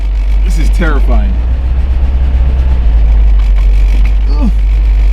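A 1977 Toyota Celica on its first test drive in 20 years, a loud, steady low engine drone heard from inside the car, with excited voices talking over it.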